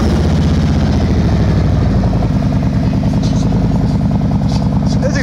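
A motorcycle with an aftermarket exhaust sits at a close, loud idle with a steady low throbbing pulse throughout, and some faint background talk is heard.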